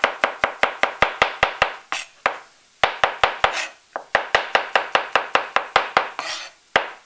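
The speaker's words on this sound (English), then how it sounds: "Cut a flat side and roll it over. And then just chop." Knife chopping mushrooms on a cutting board: rapid bursts of crisp, evenly spaced strikes in quick runs, separated by short pauses, close and clear with no talking.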